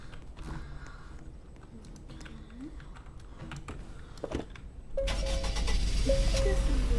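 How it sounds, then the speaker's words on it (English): A new Acura car is started up, with light clicks and creaks inside the cabin before the engine catches at about five seconds and settles into a steady low hum as it begins to drive. "Alright, let's go and drive this."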